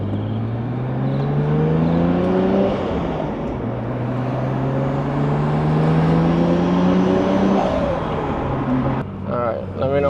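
A Nissan R33 GT-R V-Spec engine under way in second gear, rising in pitch as it accelerates, easing off, then climbing again, loud and steady from inside the car, with people talking over it.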